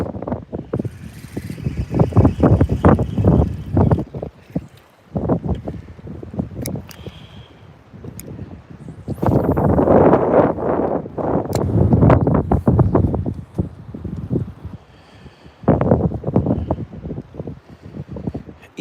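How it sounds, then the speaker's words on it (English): Strong wind gusts roar across a lake in heavy surges of microphone buffeting, rising and falling over several loud, close waves with brief lulls between them. "This wind gusting again right now."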